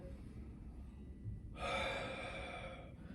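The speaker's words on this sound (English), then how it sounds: "So I'm going to breathe in and push out." A single deep inhale during a belly breathing exercise in a strengthening routine: a steady, airy rush of breath lasting over a second, close and moderately loud against a quiet background.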